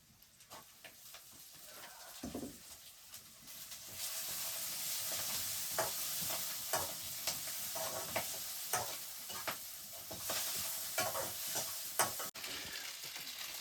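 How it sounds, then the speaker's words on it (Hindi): Leftover rice fries in a pan in a home kitchen on the Everest Base Camp trek in Nepal, with a sizzle that swells and keeps going and regular scraping stirs throughout, no talk. "भाई रात के चावल बचे हुए थे अंकल के, रात के थे पहले सुबह वाले। सही है, थोड़ा जुगाड़ लगा के फ्राई कर लेते हैं इनको।"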